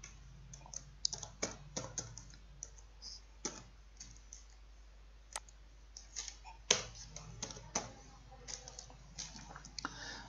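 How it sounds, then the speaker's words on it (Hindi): Quiet, close keystrokes on a computer keyboard as a password is typed, irregular single taps and short bursts of clicks with pauses between them. "फिर यही पासवर्ड हमें नीचे कंफर्म न्यू पासवर्ड में टाइप करना है सेम।"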